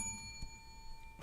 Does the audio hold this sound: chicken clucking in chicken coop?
no